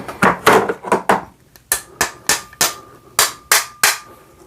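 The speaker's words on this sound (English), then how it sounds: "hammer it in a little bit with a nylon hammer" A nylon hammer taps an AK rifle's lower handguard retainer into place, giving about a dozen sharp, close knocks in a steady, slightly uneven rhythm, loud and alone with no voices.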